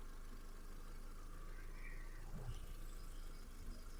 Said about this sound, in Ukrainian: Мотор працює тихо рівно.